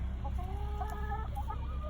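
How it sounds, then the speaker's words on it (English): Chickens cluck close by, a string of short, bright, wavering calls over a low steady hum, with no one talking. "Can you hear the chickens? They make really interesting noises."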